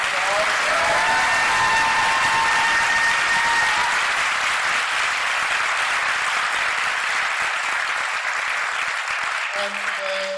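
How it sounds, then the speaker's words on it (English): A conference audience gives a sustained round of applause for keynote speakers, a loud, dense roar of clapping that holds steady before tapering, with a voice briefly audible near the end. "let's give our keynote speakers one more round of applause"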